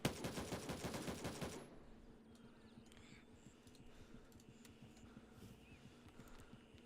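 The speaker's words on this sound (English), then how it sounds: "Who's shooting at me?" Rapid automatic gunfire in Gray Zone Warfare, a loud burst of closely spaced shots lasting under two seconds, then quieter scattered clicks and distant ambience.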